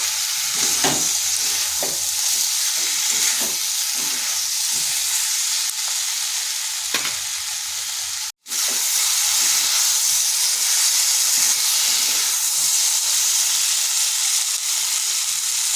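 Pumpkin and potatoes sauté in a pan for a vegetarian dish, giving a steady, close sizzling hiss that runs without a break, with soft stirring scrapes and one brief dropout partway through.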